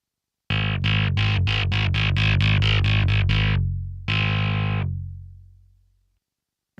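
GSI Gemini/DMC-122 combo clavinet played through a drive effect: a fast run of about ten bright, gritty, evenly spaced stabs, then one held distorted chord that decays into silence, loud and close with no talking.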